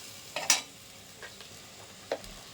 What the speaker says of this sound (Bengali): এটা একটু হালকা ভাজা হোক